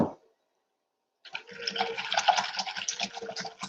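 A cup of milk being poured into quick bread batter and stirred, heard as a soft, wet, continuous sloshing and mixing sound after a short pause, fairly quiet and close.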